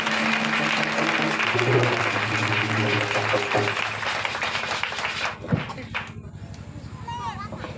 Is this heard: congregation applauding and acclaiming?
yes